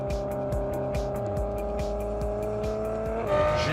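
A Ferrari 812 Superfast cruises along the road, its engine a steady loud drone with rhythmic gear-change pulses and a rise in revs near the end.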